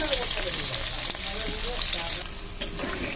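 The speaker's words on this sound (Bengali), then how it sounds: "এই যে দেখতে পাচ্ছ আমি এই আলুগুলোকে একটুখানি ভাজবো।" Potatoes fry with black cumin and green chili in hot oil, a loud, dense, continuous sizzle heard up close, with a stirring scrape or two and faint talk beneath.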